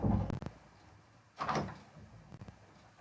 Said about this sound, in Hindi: मैं दरवाजा बंद कर देता हूँ।